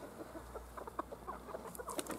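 Hens and roosters clucking in a backyard flock, a dense run of short, moderately close clucks and chatter with no talking.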